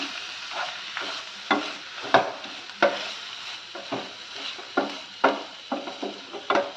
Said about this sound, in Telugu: ఈ విధంగా పాలకూరలోకి మనం ఉల్లి కారాన్ని కూడా యాడ్ చేసి ఒకసారి చక్కగా ఆకు అంతటికి మిక్స్ చేసుకోవాలి